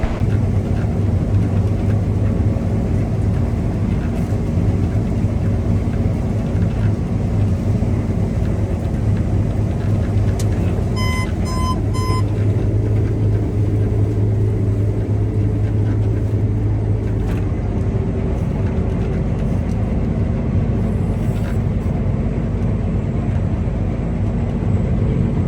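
Combine harvester with header running during harvest, a steady loud engine drone heard from inside the cab, continuous throughout with brief beeping tones near the middle.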